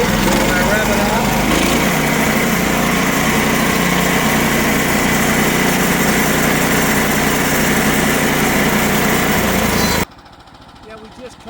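A sawmill engine revs loudly and steadily for about ten seconds while cutting an oak log, a dense mechanical roar that stops abruptly, leaving faint quiet noise.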